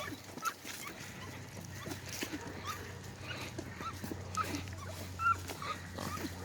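Young kennel puppies whimpering and yipping while out walking, thin high whines scattered over a low steady background hum, fairly quiet and close.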